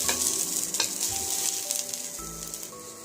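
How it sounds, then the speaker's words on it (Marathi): Peas sizzle and sauté in a hot pan, a steady crackling hiss broken by scraping stirs and light clinks of a spoon. "त्यानंतर लगेच आपण याच्यामध्ये मटार थोडंसं परतून घेऊ मऊ होईपर्यंत"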